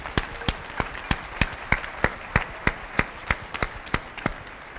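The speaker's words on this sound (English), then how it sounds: "A big round of applause to Norman Van Aken here." An audience applauding at a cooking demonstration, heard as a series of sharp, evenly spaced claps at close range, loud and regular, alone without talk.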